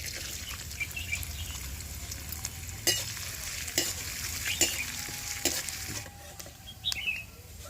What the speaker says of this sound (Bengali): একইভাবে ওই তেলের মধ্যে নারকেলটাকেও ভেজে নেব।